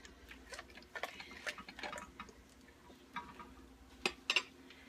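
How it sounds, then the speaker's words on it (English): A knife stirs a cabbage roll mixture of chopped cabbage and onions in a dish, giving light, irregular clicks and scrapes, quiet and close, with a few sharper taps near the end. "I'm just going to use this knife that I cut the cabbage and onions up with, and I'm going to stir that and get all that mixed together"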